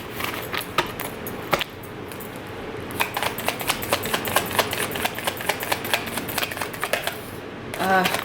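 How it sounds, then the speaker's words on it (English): Tarot cards riffle and flip loose in rapid papery bursts, with a few cards spilling onto the floor, all beneath a person talking steadily nearby. "Cards flip out and on the floor."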